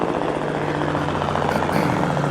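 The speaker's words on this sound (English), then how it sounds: "There's been a million helicopters flying over today." A helicopter flies over a Gulf fishing pier, its steady throbbing rotor drone loud and continuous throughout with no voices.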